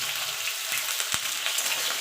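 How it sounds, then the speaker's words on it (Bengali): Potato and pointed gourd fry in a pan with a bright, steady sizzle, crackling close up, broken by a few sharp ticks from stirring, and no voices. "পটলটা লাল লাল করে ভেজে নেব।"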